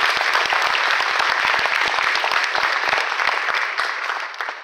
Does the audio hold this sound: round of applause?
yes